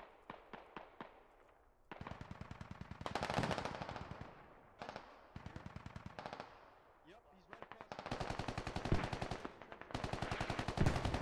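Mortar and gunfire in the video game Squad, rapid bursts of sharp cracks in repeated volleys separated by brief pauses, loud and close with automatic fire dominating.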